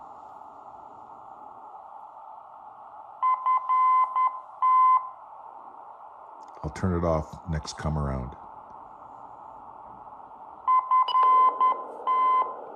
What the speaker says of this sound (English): I like to listen to these beacons, these non-directional beacons, on AM with the narrowest filter.